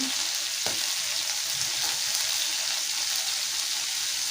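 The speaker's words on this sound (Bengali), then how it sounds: "আমি কড়াইতে তেল চিংড়ি মাছগুলো দিয়ে দেবো" Shrimp hit hot oil in a wok and sizzle loudly and steadily, a dense continuous frying hiss with a small clatter near the start.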